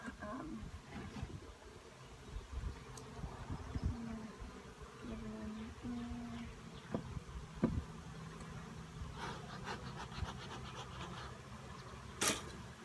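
Honey bees hum and buzz close by in a low droning swarm around a young hive during inspection, with occasional clicks and light handling noises around them.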